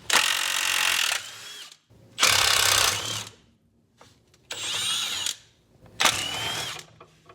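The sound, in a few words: power tool removing rusty tie rod bolts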